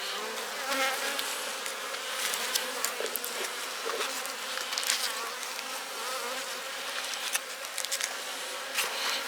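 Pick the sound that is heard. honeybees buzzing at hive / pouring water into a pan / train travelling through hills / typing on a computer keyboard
honeybees buzzing at hive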